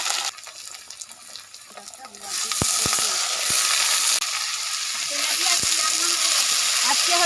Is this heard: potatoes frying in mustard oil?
yes